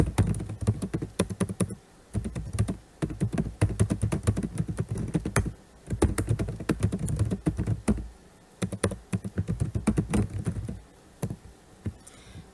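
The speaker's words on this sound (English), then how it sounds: "you would type the title all in caps without the word Running Head" Rapid, uneven keystrokes on a computer keyboard clatter in close bursts with short pauses, a busy stream of clicks and taps with no voices.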